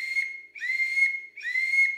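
A 5-in-1 game call whistle blown with plain air and no voice: three clean, sustained high whistle notes in a steady rhythm, each dipping slightly in pitch, loud and close with short gaps between.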